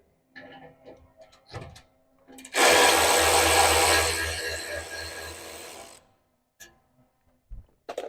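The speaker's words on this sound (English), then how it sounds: "there's 2 12mm hex bolts there and there that you have to remove" A power tool spins out 12mm hex bolts on the front bar of a 2024 Toyota Landcruiser 79 Series, a sustained loud whir of several seconds between scattered clicks and handling knocks, close up.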